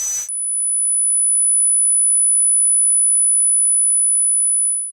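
A simulated tinnitus tone rings as one steady, very high-pitched pure whine, loud and unchanging for nearly five seconds after a brief burst of other sound at the start.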